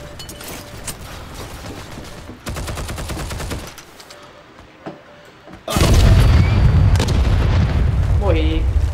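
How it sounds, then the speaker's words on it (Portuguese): A heavy machine gun hammers out a rapid, evenly spaced burst in the World War II shooter Heroes and Generals. Steady battle noise comes before it, then a loud roaring swell follows, with a voice briefly heard near the end. "Metralhadora pesada."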